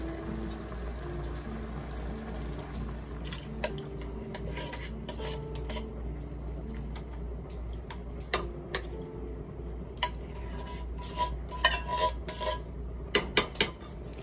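A metal utensil stirs crab in coconut milk with string beans and squash in a cooking pot, giving light, scattered clinks and scrapes over a low steady hum, with sharper taps clustering toward the end.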